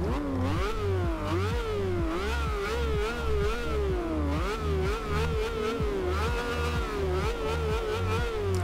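A 2013 Lamborghini Veneno's 1,100-horsepower engine screams continuously in the video game Forza Horizon 2, pitch rising and falling through repeated gear shifts over a steady pounding beat.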